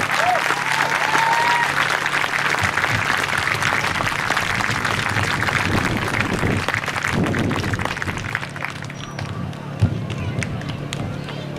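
A large crowd at a youth little league closing ceremony gives loud, sustained applause for the coaches and managers, thick clapping with some cheering that lasts about ten seconds before tapering, a few voices mixed in.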